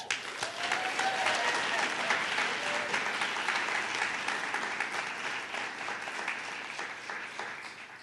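An audience at a Boys & Girls Clubs of Northwest Colorado Youth of the Year event applauds to welcome a speaker to the stage, with steady, sustained clapping from a crowd that slowly tapers off.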